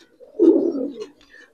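A Giribaz pigeon gives a single soft, throaty coo lasting about a second, close and clear against near silence, with faint higher chirps trailing after.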